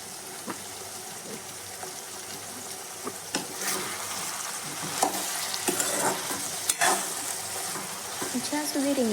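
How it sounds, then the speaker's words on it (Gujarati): Brinjal cooking in hot oil in a pan for a green pigeon pea curry, stirred now and then with a spoon: a steady close sizzle with scattered scraping and clinking strokes, no talk. "જ્યાં સુધી રીંગણ ન ચડે ત્યાં સુધી આપણે ઉપર ઢાંકણ ઢાંકવાનું નથી, પણ આવી રીતના ચમચાની મદદથી વચ્ચે વચ્ચે એને મિક્સ કરતા રહીશું."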